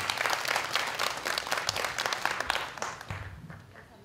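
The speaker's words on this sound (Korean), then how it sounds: "다시 한번 박수 부탁드리겠습니다." An audience at a public forum event gives sustained, lively applause that is close and full, then fades slightly toward the end.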